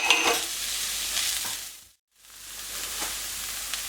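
Shallots fry in a pan for samosa briouates with a continuous bright sizzle that dips to near silence at the midpoint and then returns at steady, moderate loudness.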